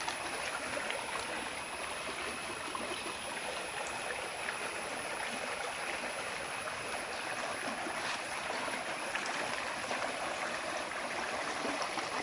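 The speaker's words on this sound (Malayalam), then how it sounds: "ഇത് പാറകൾക്കിടയിലൂടെ വെള്ളം ഒഴിച്ചു വരുന്നു" Forest stream running between rocks in a cardamom plantation, giving a steady, even rush of flowing water throughout with no voices.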